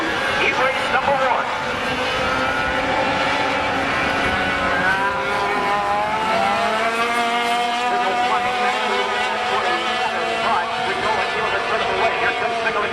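Sport trucks race around an oval track at Wisconsin International Raceway, engines droning steadily and loudly with pitch sweeps as the pack rolls through the turns, under continuous announcer commentary.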